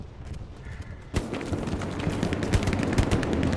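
WW2 machine guns firing in Hell Let Loose, a sudden onset of rapid, dense automatic bursts that keep rattling steadily, loud and close over a continuous battlefield din.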